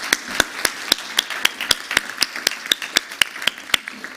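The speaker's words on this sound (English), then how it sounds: "Can we give our panelists a round of applause?" Sparse, steady hand clapping from a small group after a workshop panel on carbon and nature-based solutions, sharp individual claps in an irregular rhythm, fairly close and moderate in level, no talk.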